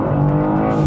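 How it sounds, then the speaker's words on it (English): BMW M2 G87 engine note through a quick gear change, a loud steady tone with a brief shift in pitch near the end, close and continuous with no talking. "see that gear change?"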